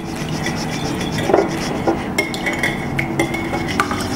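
Egg, oyster sauce, sesame oil and fish sauce stirred together in a bowl, a utensil clinking and scraping against the dish in a few irregular taps, close and fairly clear over faint kitchen background.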